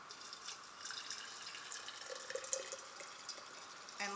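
Hot water poured over pine needles to steep them, a soft steady trickling and splashing of liquid lasting several seconds with a faint drip near the end.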